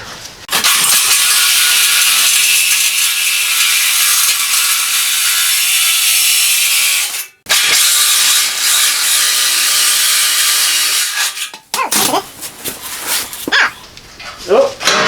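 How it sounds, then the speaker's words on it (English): A sawzall reciprocating saw cuts through steel tabs on the frame of a 1929 Ford Model A shop truck, buzzing loud and continuous for about eleven seconds with one brief pause, then broken bursts toward the end. "All I gotta do is get the sawzall in here and cut these two tabs and this thing should go."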